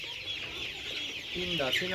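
Color bat chickens clucking nearby on a farm in short bursts, a few soft repeated clucks toward the end over a background hiss and faint chatter.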